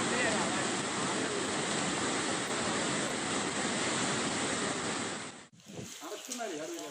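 The flooded Periyar river in Ernakulam district, Kerala, rushes in a loud, continuous roar of churning water for several seconds before the sound drops off abruptly and quieter background noise follows.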